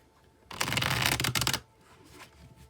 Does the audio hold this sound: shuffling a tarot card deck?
yes